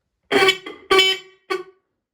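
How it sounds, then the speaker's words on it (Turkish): Homemade earthquake alarm sounds a car horn in three short honks of uneven length, loud and close in a quiet indoor room. "sarsıldığı an direkt kornamız ötmeye başlayacaktır"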